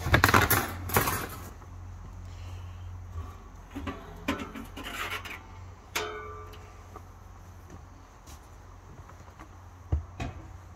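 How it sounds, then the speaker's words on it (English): Metal grates pulled from a drum smoker make a few scraping, clinking knocks near the start and scattered lighter metallic taps later over a low steady hum, with no talk. "We'll pull out our grates."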